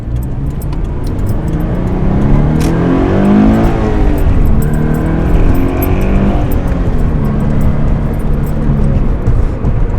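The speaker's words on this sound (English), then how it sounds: "it's just so much fun to drive this car through these corners" A Scion FR-S is driven hard through corners on a back road, its engine droning steadily up close and rising and falling in pitch as the revs climb and ease off, with no one talking.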